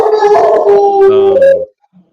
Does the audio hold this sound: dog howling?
yes